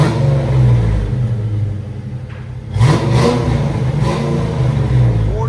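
A deep 1987-1993 Ford Mustang GT 5.0 V8 idles with a throaty burble, dips briefly, then revs hard a few times in quick bursts, loud and close, around 109 decibels.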